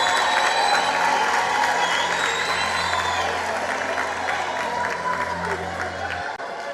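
Crowd applauding at a matric results announcement for a secondary school, sustained clapping with some cheering and a faint steady hum underneath, loud at first and slowly easing.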